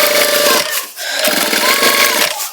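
A sewing machine stitches a trouser back pocket in rapid, loud mechanical bursts, pausing briefly near the middle before running again.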